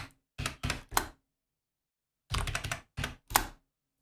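Bursts of typing on a computer keyboard, close and fairly quiet: a quick run of three or four keystrokes, a pause of over a second, then a second cluster of several clacks, with no voices.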